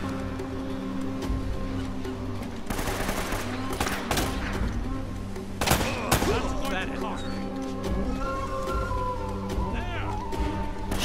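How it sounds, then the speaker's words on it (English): Gunfire in Uncharted: Drake's Fortune crackles as scattered shots and bursts over a steady game soundscape, moderately loud, with a player talking over the action. "There's someone else shooting at me."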